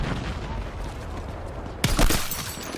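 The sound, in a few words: grenade explosion in video game Battlefield 6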